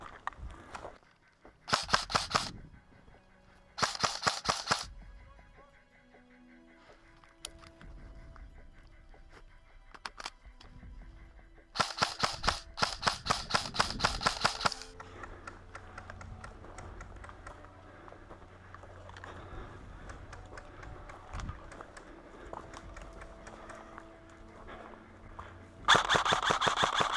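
Airsoft gunfire from a Krytac SPR and a VFC SCAR-L during a King of the Hill game outdoors: rapid bursts of sharp, snapping shots come in several clusters, with quieter background stretches between them.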